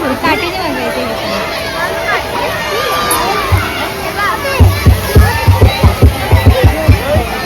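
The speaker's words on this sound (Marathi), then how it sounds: "आता सध्या मे महिन्याची सुट्टी आहे त्यामुळे खूपच गर्दी आहे" A large, busy crowd at a family picnic spot during the May holidays fills the air with dense chatter and children shouting, with a nearby voice talking over the constant hubbub.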